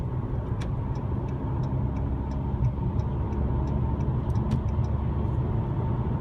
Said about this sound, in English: As you can hear, 4-cylinder, picking up the speed